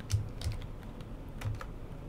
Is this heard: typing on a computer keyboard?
yes